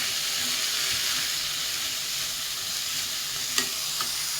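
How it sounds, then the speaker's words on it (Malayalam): Payar thoran being stirred in a pan with salt, turmeric and crushed green chili, giving a steady sizzle and frying hiss with soft scraping of the spoon and a couple of brief clinks near the end. "ഇതൊന്ന് ഇളക്കി കൊടുക്കാം."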